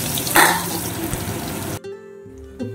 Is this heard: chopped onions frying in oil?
yes